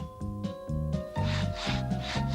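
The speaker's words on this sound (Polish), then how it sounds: "Wypróbujcie moją nową piłę." Repeated back-and-forth rasping strokes of a saw through wood, steady and close, with a tonal music-like background underneath.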